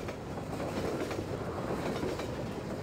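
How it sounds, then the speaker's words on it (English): A train rolls into the station in the video game Half-Life 2, a steady loud rumble of wheels on rails with faint clickety-clack running throughout, no voices over it. "So he'll probably jump on the train when it comes."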